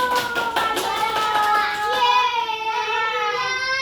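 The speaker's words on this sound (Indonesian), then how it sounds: "Tepuk tangan dulu." Young children at a kindergarten Independence Day celebration in Banda Aceh clap their hands in quick, close bursts while children's voices and singing ring out over the steady patter.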